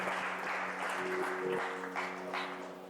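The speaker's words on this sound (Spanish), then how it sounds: "fuerte aplauso al Señor" Congregation applauding in church, a steady broadband wash of many hands clapping for about three seconds, with a sustained musical tone or hum underneath.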